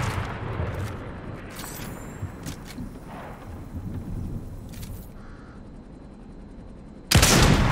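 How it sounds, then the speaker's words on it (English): Gunfire in Fortnite gameplay, a spread of scattered shots and bursts at mid distance over a steady background bed, ending in a sudden loud burst near the end. "Someone's shooting here too."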